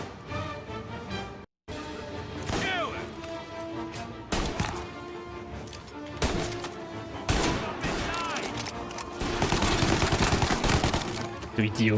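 Pistol gunfire in the video game Mafia: Definitive Edition: repeated sharp shots and impacts crack over loud, dense game sound and music, with a brief dropout early on.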